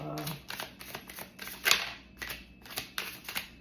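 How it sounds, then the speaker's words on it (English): Rapid riffling clicks of cards being shuffled, a quick run of crisp flutters with a sharper snap in the middle, close and fairly quiet. "Let's shuffle this second deck."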